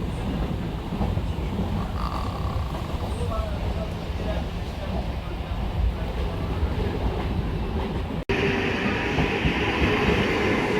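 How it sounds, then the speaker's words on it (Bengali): A Bongaon local train runs along the track with a loud, continuous rumble and steady wheel noise, nearby and unbroken apart from one brief dropout near the end. "প্রায় ফাঁকা ট্রেনে সওয়ার হয়ে পাড়ি দিলাম গন্তব্যে"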